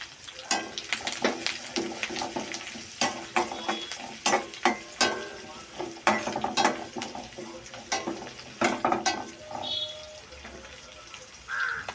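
Ginger and garlic frying in a pan while making beetroot pickle, with a steady sizzle under repeated sharp scraping and stirring clatters close up; no talking.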